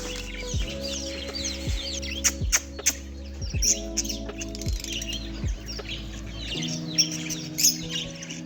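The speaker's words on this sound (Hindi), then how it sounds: "ये कबूतर आ गए हैं बाहर पानी के साथ साथ ही" Pigeons chirp and call in bursts over a low, steady mechanical hum with repeated rhythmic thuds.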